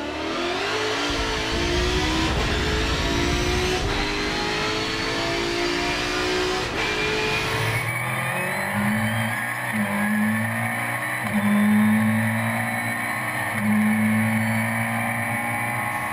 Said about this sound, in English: Forza adds a slight delay when you shift up or down.